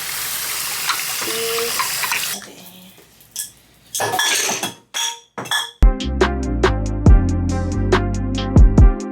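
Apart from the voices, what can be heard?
washing up items under running water, glass clinking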